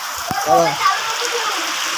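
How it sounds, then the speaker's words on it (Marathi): Heavy first rain of 2024 falling in Shirale village, a steady, dense broadband hiss throughout, with a brief voice in the first second. "हा मोठा पाऊस पडला"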